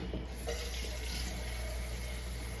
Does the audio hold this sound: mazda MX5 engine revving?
no